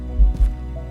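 Two deep, thudding heartbeat pulses sound in quick succession as an effect in an audio drama, low and throbbing over a soft hum.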